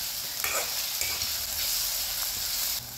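Ginger and garlic frying in a pan for a crab curry, a steady close sizzle with a couple of light stir scrapes, fairly quiet and continuous.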